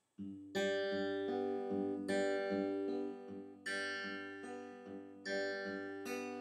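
Fingerpicked acoustic guitar plays the intro to a song as a repeating pattern of ringing open-string notes, each phrase restarting with a fresh strum-like attack, close and clear with no talking.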